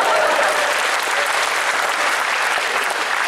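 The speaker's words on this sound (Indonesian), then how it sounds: "Tepuk tangan buat saya." A crowd at a stand-up comedy show in Aceh breaks into sustained applause, a thick, even wash of many hands clapping, loud and unbroken.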